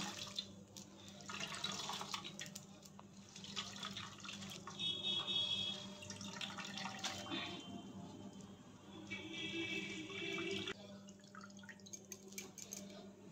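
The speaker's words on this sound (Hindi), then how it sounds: "एबे भल भाव में चिपुड़े नबा जेमती कि टिके भी पानी न रहबा।" Water trickling and dripping steadily into a basin from a squeezed cloth while preparing mango pickle, soft splashes coming and going in bursts, fairly close and quiet, with no voices.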